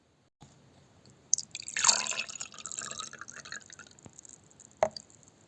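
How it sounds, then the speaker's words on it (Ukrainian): Meltwater from snow pours briefly into a clean glass with a splashing gurgle, followed by a few faint drips and a light clink at the end. "Перельємо воду, що утворилася зі снігу в чисту склянку."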